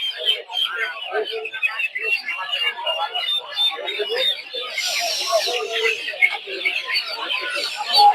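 Dense chorus of high tiger chicken chicks cheeping and birds chattering, continuous and close, with a crowd of people talking nearby at the Putia poultry market in Shibpur, Narsingdi.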